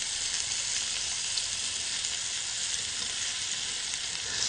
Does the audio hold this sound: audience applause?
no